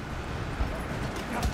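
Horse hooves galloping in a video game, quick rhythmic clip-clop thuds set against a noisy, busy background for a moment.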